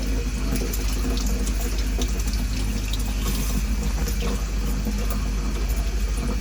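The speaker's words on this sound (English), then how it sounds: "best way to get that out is just by rinsing it under a tap" Tap water runs steadily into a sink as a clogged filter is rinsed under it, a continuous broadband splashing hiss with no pauses and no voices.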